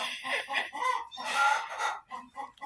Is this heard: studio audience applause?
no